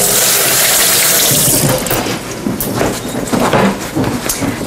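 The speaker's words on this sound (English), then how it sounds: "I'm gonna wash my hands." Tap water runs steadily in a home kitchen sink as hands are washed, a loud close rush that continues throughout and splashes a little more unevenly toward the end.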